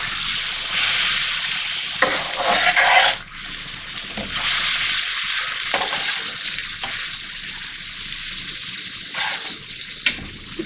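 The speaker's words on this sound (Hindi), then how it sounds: "इसको इतना मिक्स करना है प्याज और इसके साथ भूनना है, कलर चेंज हो जाए इसका कीमे का" Beef mince and golden fried onions sizzle steadily on a hot tawa while being stirred, a continuous bright frying hiss with occasional louder scraping bursts from the spoon.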